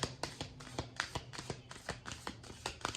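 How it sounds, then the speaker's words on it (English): New oracle cards are shuffled by hand, a quiet close series of crisp riffling taps and flicks repeating in an irregular rhythm. "sometimes it's a little hard to shuffle them, so I'll shuffle for a bit"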